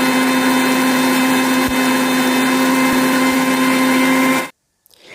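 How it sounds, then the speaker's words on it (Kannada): A kitchen mixer grinder runs loud and steady, grinding crushed garlic with water, its motor whine holding constant for about four and a half seconds before cutting off abruptly into near silence. "ಮಿಕ್ಸಿಗೆ ಹಾಕಿ ಇದಕ್ಕೆ ಸ್ವಲ್ಪ ನೀರನ್ನು ಸೇರಿಸಿ ಚೆನ್ನಾಗಿ ಗ್ರೈಂಡ್ ಮಾಡಬೇಕು."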